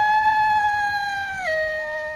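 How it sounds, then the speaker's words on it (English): A wolf gives one long, clear howl that holds steady, then slides down to a lower pitch near the end, loud and close with no other sounds around it. "Wolf."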